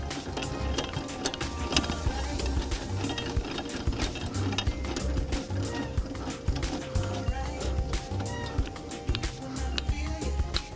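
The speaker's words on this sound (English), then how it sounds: "Wind your stabilizer down." Hand brace with a 19 mm socket on a hex drive winding down the stabilizer leg of an AusRV Titan 12 caravan: a steady, continuous mechanical whir and rapid rattle, fairly quiet and unbroken throughout.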